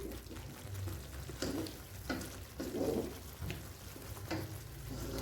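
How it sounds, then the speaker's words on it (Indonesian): Fish being fried in a pan with spices for a coconut-milk tongkol stir-fry, giving a constant soft sizzle with repeated scraping stirs at a moderate level; no voices. "Aduk agar bumbunya merata ke ikan."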